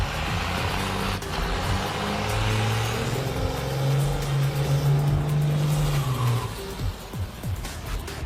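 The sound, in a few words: diesel-swapped Torino wagon drag racing down the strip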